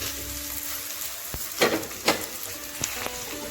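Raw mango pickle sizzling in a pan as sugar goes in, a steady close frying hiss with a few sharp stirring clinks and spoon taps, no voices.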